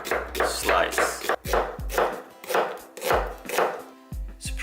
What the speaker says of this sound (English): Onion, cut in half and slice.